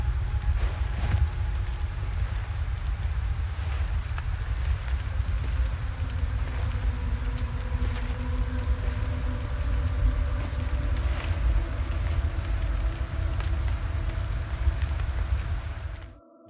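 Steady rain pours throughout a rainy scene in the video game Hell Is Us, a dense, even hiss with faint low tones beneath, continuous and close for the whole stretch before cutting off at the end.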